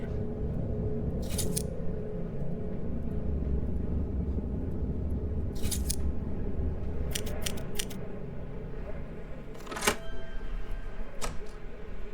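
Scissors snip in a video game, heard as several sharp cutting clicks spaced out over a constant low droning background.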